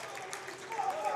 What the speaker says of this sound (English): You can hear the crowd in the background.